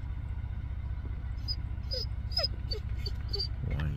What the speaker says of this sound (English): Whiny dog, I'm sorry guys, he won't shut up.